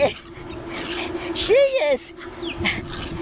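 A young, 1.5-year-old female adoptable dog full of playful energy lets out a brief, high, wavering whimper. It sits under steady conversation from nearby speakers.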